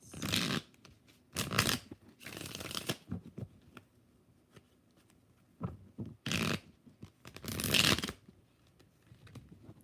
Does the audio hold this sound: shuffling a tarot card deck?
yes